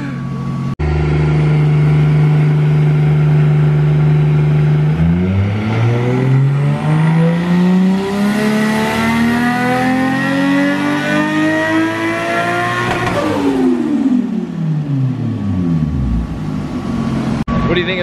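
A loud turbocharged car with an external wastegate and an extra muffler runs on a dyno, idling with a deep drone before revving up in a long rising pull that peaks and falls away, very close and harsh.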